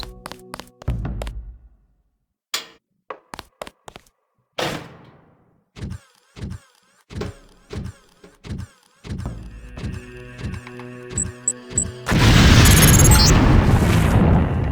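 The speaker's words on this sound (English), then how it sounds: "If you aren't close enough, the lamp will fall to the ground and detonate." In the video game Deus Ex, a lamp falls and detonates. A series of dull thunks and knocks leads into a loud, sustained explosive roar near the end.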